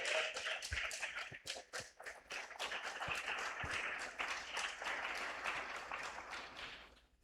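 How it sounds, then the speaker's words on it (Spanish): A church congregation claps during a sermon, giving irregular, fairly faint applause with a few sharp distinct claps standing out early on. "Dale un fuerte aplauso al Rey."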